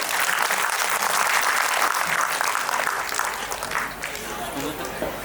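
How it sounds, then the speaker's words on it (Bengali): An audience applauds after a staged Bengali audio drama of Tagore's Malancha at a Rabindra-Nazrul birth anniversary evening, a dense, sustained wash of clapping that dips slightly before carrying on. "আরো একবার করতালি হয়ে যাক।"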